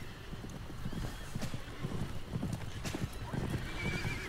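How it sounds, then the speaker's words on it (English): Horse hooves clip-clop in an uneven trot at a moderate distance in the video game South Park: The Stick of Truth, with a horse whinnying and a low background rumble. "I hear horses."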